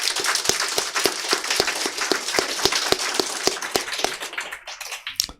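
Audience at a Korean political party joint meeting clapping in unison, a loud rhythmic run of sharp synchronized claps at a steady pace that thins out and stops near the end.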